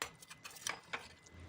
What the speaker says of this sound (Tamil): இந்த ஸ்டேஜில் நான் ஒரு பேக்கெட் ஃபுல்லாக சேமியாவை கொட்டி நல்லா கிளறி விட்டுறேன்.